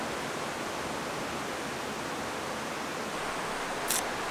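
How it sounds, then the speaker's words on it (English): Steady broadband rush of creek water flowing past a sandy beach with a rock wall behind, an even, continuous wash with no talk. "nice view of the creek"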